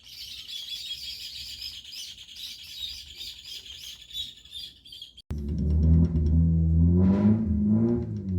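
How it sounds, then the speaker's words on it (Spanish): Small birds chirp rapidly in a busy high twittering chorus, then the scene cuts to a louder motorcycle engine drone, a CG single-cylinder, with a few faint chirps still audible. "Los pajaritos se escucharon"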